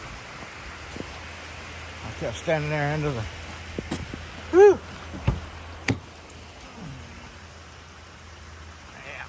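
Steady rain falling outside around a parked vehicle, a soft continuous patter under a man's brief muttering and a few knocks.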